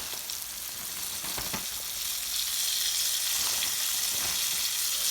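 Chicken pieces fry in a shallow layer of hot grease, giving a steady, bright sizzle that swells slightly as it goes, with a few soft knocks near the start and no talking.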